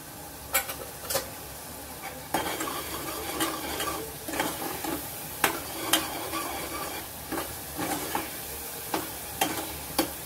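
Spice masala being sautéed in a pan, with a steady low sizzle and repeated light spoon clicks and scrapes against the metal at an uneven rhythm, close and fairly quiet, with no voices.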